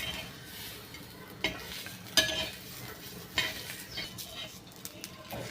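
Masala roasting with onions in a pan, a soft steady sizzle under intermittent sharp metallic clinks and scrapes from a spoon stirring against the pan.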